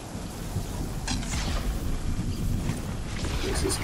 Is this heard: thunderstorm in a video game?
yes